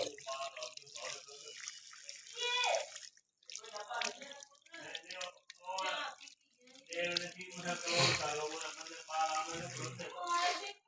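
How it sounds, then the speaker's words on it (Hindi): Tap water splashing into a sink while hands are washed with soap after a meal, a close, uneven running and dripping sound with someone talking over it throughout. "अब यहाँ पर हाथ धोने आए तो साबुन भी बीच में किया"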